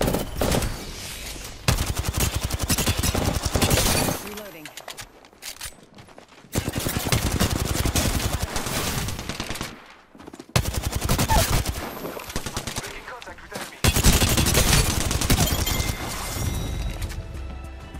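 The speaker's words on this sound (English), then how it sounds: "Opening fire." Bursts of automatic gunfire in the battle royale shooter Apex Legends, loud and rapid, in several sustained volleys separated by short lulls, with crashes and impacts mixed in.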